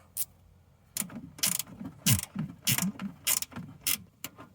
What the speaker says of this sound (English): it's these 3 bolts up the back now with the ratchet spanner